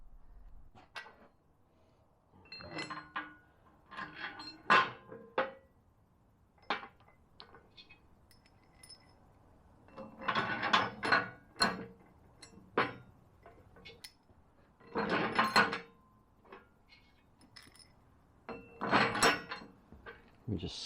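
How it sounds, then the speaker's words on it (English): Long bolts and metal spacers clink and knock in sharp, intermittent bursts as a center recovery hook is fitted to a Hayman Reese X-Bar on a Landcruiser 79 Series, close and fairly quiet with no talk. "Now we're putting the center recovery hook, as they call it, on there. These long bolts and spacers."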